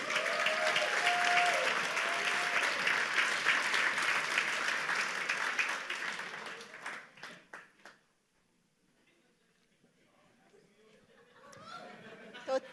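Applause fills a New Year's banquet hall, sustained clapping from a large crowd for about six seconds before tapering into scattered claps and quiet, with faint murmuring near the end.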